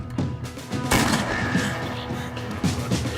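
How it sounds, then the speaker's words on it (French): A gunshot in the video game As Dusk Falls, one sharp loud crack about a second in, trailing into a rumbling echo over a low ambient game backdrop. "c'était quoi ce coup de feu?"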